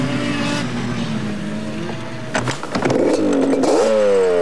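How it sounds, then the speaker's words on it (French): A quad bike with a 250 to 500 cc two- or four-stroke engine runs loud and close, with a steady drone that turns rougher before the revs climb sharply near the end. "Animé généralement par des moteurs de 250 à 500 cm3, 2 temps ou 4 temps, le quad se conduit comme une moto"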